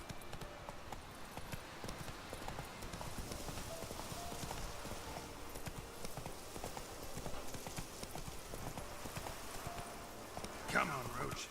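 Horse hooves clip-clop at a steady galloping rhythm in The Witcher video game on Xbox One, continuous and mid-distance across the whole stretch, with game ambience and a brief brighter sound near the end.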